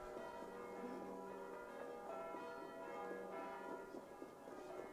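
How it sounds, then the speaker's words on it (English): Church bells ringing across a town in Assassin's Creed Valhalla, several bells layered with sustained metallic tones, steady and moderately distant, with no talk over them. "It's a nice touch to have all the bells in the different churches ringing, and they sound different, too."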